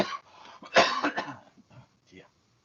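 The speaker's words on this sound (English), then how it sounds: "that wasn't a staged cough" A person coughs and clears their throat during an online conference talk: one sharp loud cough, then a few softer follow-up throat sounds, close and dry.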